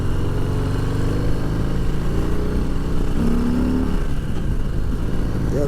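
A 2020 Harley-Davidson Deluxe motorcycle cruising on the road, its engine producing a loud, steady low rumble with a brief rise in pitch partway through, heard up close without talking.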